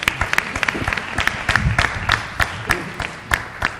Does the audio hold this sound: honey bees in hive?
no